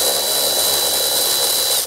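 A Milwaukee M12 power ratchet loosens 10mm bolts on an Alfa Romeo Stelvio with a loud, close, continuous high-pitched whir that stops abruptly after about two seconds.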